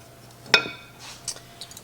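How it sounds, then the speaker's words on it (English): Active dry yeast being whisked in a bowl: one sharp metallic clink against the bowl, then a few faint, quick taps and scrapes, close and fairly quiet. "Give it a whisk."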